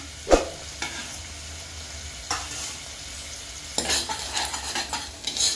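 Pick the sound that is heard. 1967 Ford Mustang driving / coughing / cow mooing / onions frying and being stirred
onions frying and being stirred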